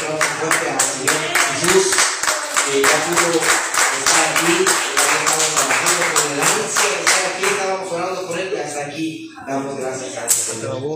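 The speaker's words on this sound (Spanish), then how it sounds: "Un aplauso fuerte al Señor Jesús" Loud, close, rhythmic clapping from a church congregation at a Palm Sunday service, a steady beat of hands carrying on for most of the stretch before thinning out, with voices talking over it.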